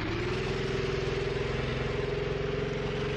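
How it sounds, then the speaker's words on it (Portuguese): A 2023 IndyCar engine simulated in the racing game Automobilista 2, giving a loud, steady, buzzy mechanical drone with a slowly rising pitch as the car creeps forward, heard without talk. "Já tá fazendo o som do motor."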